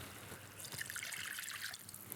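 A cup of water is poured into a beef and onion stew, making a soft, close trickling and splashing for about a second and a half before tapering off.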